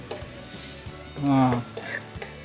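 Spicy village-style chicken liver frying in a pan, stirred with a utensil: low sizzle under soft scraping and clinks, with a brief louder rattle midway, close up.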